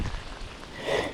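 Rain pattering steadily near shallow water during a fishing outing, a soft even hiss with faint drops and no talk.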